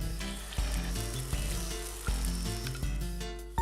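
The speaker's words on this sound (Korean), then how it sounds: "참기름을 둘러 불린 쌀과 양파를 넣고 볶아주는데요." Soaked rice and onion sizzle in sesame oil in a pan, a steady close crackle broken by regular louder bursts as the mixture is stirred and tossed.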